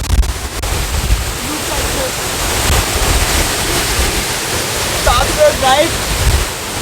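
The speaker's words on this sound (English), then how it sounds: "I'm at the waterfalls." At Marmala waterfall in Kerala, a steady, loud roar of falling water mixes with gusty wind buffeting the microphone, and faint voices briefly surface near the end.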